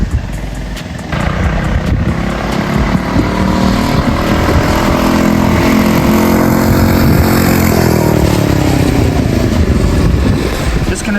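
A small mini bike engine runs outdoors close by, a steady buzzing drone that rises in pitch and holds as it revs, with no speech over it.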